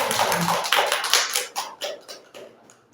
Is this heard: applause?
yes